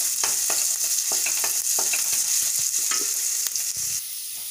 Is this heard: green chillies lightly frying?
yes